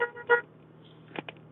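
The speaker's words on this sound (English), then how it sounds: "We had a honker going by." A car horn sounds from a vehicle passing on a 100 km/h highway near Mirror, Alberta, with two short honks near the start and two more brief toots toward the end over a steady low road hum.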